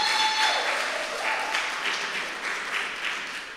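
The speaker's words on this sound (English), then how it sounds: "Give yourself a lusty round of applause." A community meeting audience at Les Coteaux Community Centre in Tobago claps in a steady, moderately loud round that swells slightly and tapers toward the end.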